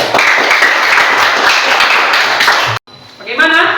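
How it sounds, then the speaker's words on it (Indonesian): Students applauding in a classroom, a loud burst of many hands clapping for nearly three seconds, followed by a voice speaking. "berikan aplaus untuk"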